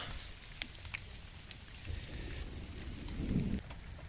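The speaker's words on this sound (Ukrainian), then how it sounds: "От то дощик прийшов." Steady rain patters down on a vegetable garden after a storm and hail, with a soft, continuous hiss, a few nearby drips standing out, and a low rumble swelling near the end.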